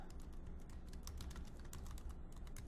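Steady, quiet typing on a computer keyboard as a folder name is entered, with rapid light key clicks running continuously under a low hum and no voice.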